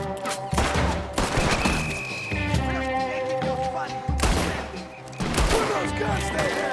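A Red Dead Redemption 2 shootout sends out loud, repeated bursts of gunfire in rapid volleys, layered over sustained tonal game sound, with no voices.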